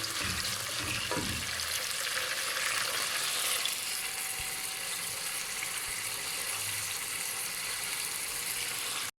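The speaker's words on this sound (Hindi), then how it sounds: "साथ में प्याज को लाइट पिंक करेंगे, लाइट पिंक होने तक इसको फ्राई करेंगे" Onions frying in oil in a deep cooking pot, a steady broadband sizzle that stays loud and even throughout with a brief stirring rustle near the start, no voices.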